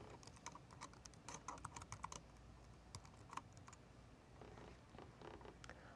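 Keys clatter on a computer keyboard as a username and password are entered, quick bursts of close taps, some clustered, others spaced, with brief pauses and no voices.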